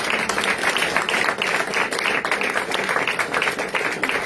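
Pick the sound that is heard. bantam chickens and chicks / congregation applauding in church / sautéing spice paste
congregation applauding in church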